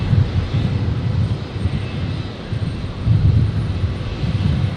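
A China Eastern Airbus A330 jet taxiing at Brisbane airport, a steady low engine rumble that swells and eases, heard from a distance with some wind.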